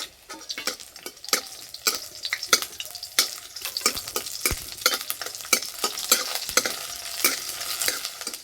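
Slit green chillies frying in hot oil after garlic, loud crackling sizzle with rhythmic spatula strokes and clicks against the pan, close and alone.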